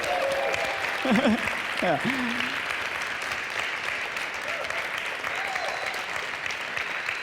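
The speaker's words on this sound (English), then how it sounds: "big applause to these 2 guys" Applause fills the hall at a startup hackathon award ceremony in Kultuurikatel, steady clapping throughout with a brief cheer and someone speaking near the start.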